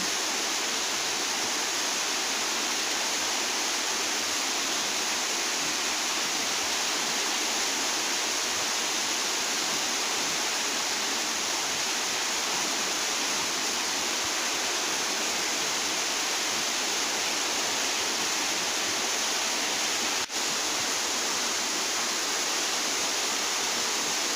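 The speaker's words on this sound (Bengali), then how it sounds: "বৃষ্টি পড়ছে আর আমি বৃষ্টির দিকে তাকাচ্ছি।" Steady rain falls as an even, unbroken hiss of water, heavy and constant throughout, with no voices.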